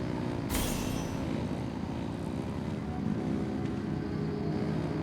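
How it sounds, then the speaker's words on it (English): Engines rev in Genshin Impact, a steady loud droning roar that holds for several seconds after a brief bright burst near the start. "Rev the engines!"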